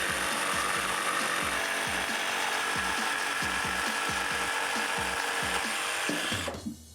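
Jigsaw blade chattering through a board along a marked line, a fast regular buzzing judder that stays close and loud before cutting off abruptly near the end, with no talk over it.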